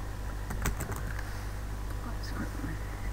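Keys tap on a computer keyboard as a passphrase is entered, a short cluster of clicks early on followed by a few scattered taps over steady background hum.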